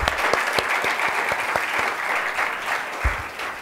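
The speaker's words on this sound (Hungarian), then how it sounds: "Egy nagy tapsot nekik," Audience at a conference applauds steadily, dense clapping filling the room with a few sharper individual claps standing out, no speech over it.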